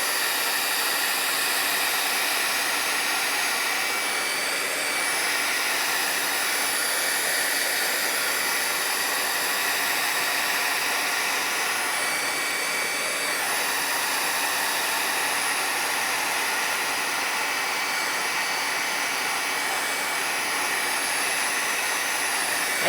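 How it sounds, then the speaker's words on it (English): A heat gun blows steadily over wet watercolor paint on paper, a constant close airy roar that holds at the same level for the whole stretch with no talking. "Let's hit it with the heat gun."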